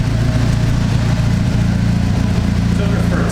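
A Mitsubishi Eclipse GSX on a test drive after new wheel hub bearings: a steady, close engine drone with road noise, holding an even pitch throughout.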